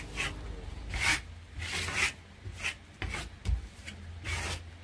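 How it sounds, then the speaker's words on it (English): A trowel scrapes metallic Modern Masters plaster across a wall in repeated long rasping strokes, each sweep a broad, close, steady rub with short pauses between strokes and no talking. "by polish, I mean scraping like that across the plaster"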